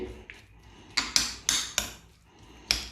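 Potatoes, tuna and olive oil being mixed in a bowl with a utensil, producing about six sharp clinks and knocks against the bowl at irregular intervals, close and moderately loud, without talk.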